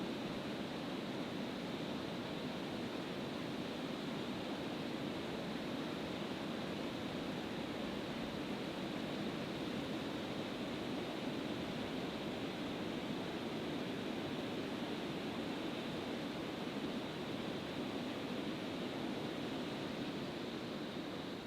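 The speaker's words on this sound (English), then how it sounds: "If you hear the power of the dam, it's amazing." Water pouring over a dam on the Charles River makes a steady, loud, broadband roar that holds constant and unbroken throughout, with no voices over it.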